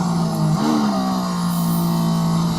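Mercedes-AMG ONE hypercar engine at a racing circuit under hard braking, its tone dropping with a downshift to second gear, then holding a steady loud drone near the listener with no talk.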